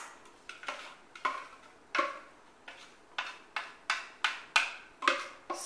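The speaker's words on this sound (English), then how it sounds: "So we're going to put the mousse into our serving dishes." Chocolate mocha mousse is spooned into serving dishes, giving a string of about a dozen sharp clinks and taps of spoon on dish in an irregular rhythm, close and clear, with no talk.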